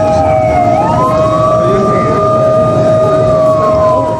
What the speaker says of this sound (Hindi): सायरन बजाए गए।